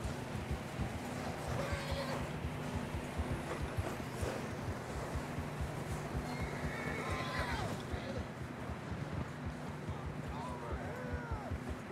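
Horses on a mountain trail in the video game Red Dead Redemption 2: continuous clopping hooves with snorts and whinnies amid wind and rushing water, a steady low hum underneath, and occasional distant voices.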